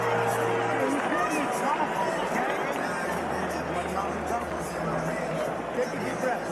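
Arena crowd at the Pacquiao vs Barrios boxing fight, a steady roar of cheering and chatter heard from a distance beneath ongoing commentary.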